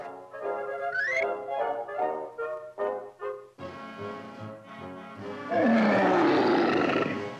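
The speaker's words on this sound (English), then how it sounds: "wasn't that a lion's roar?" A cartoon lion lets out a roar and several growling grunts. They come in bursts, then build into a louder, sustained roar near the end.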